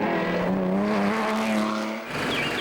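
A BMW 3-litre coupe rally car taking a corner too fast on a wet road, its engine roaring loud and close with a sustained tonal whine and tyre squeal before easing off near the end.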